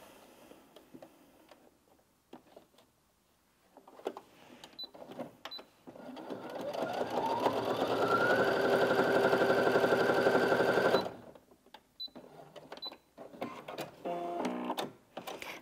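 Brother Innov-is A150 sewing machine stitching through four layers of fabric, a steady rapid mechanical whir that builds, runs several seconds and stops, with scattered clicks and handling noises before and after.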